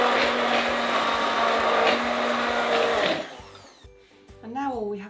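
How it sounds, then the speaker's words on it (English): A handheld stick blender purees chicken stew with a loud, steady buzzing whir for about three seconds before cutting off, followed by quieter kitchen clatter and a brief rising voice-like sound. "I'm going to use a stick blender."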